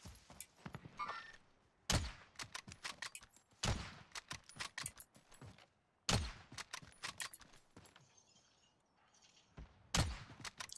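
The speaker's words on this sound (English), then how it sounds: "Wait, shooting?" Gunfire in a first-person shooter video game, with sharp, loud shots in quick irregular bursts and several heavier cracks spaced a few seconds apart among softer clatter.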